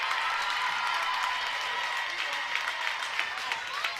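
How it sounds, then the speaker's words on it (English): Home fans at a high school basketball game applaud, a steady wash of clapping and crowd noise filling the gym, with a commentator talking over it. "they will be serenaded by a round of applause from their home fans"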